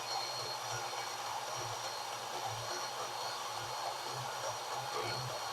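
An angle grinder with a face-off disc trims back metal brackets for a pipe anvil sheet metal brake, producing a steady, continuous high whir with a faint pulsing undertone, fairly quiet and alone.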